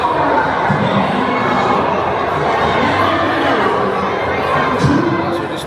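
A crowd of people and reporters mills about while waiting for fighters to arrive, producing a steady, dense murmur of overlapping chatter with occasional louder voices rising out of the hubbub.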